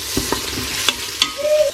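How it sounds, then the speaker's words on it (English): Onions dropped into olive oil in an Instant Pot on sauté mode give a close, steady sizzle with a few clattering stir knocks and a brief high tone near the end, with no speech. "So I've just added a couple of glugs of olive oil into my Instant Pot on saute mode. And I'm going to add in my onions."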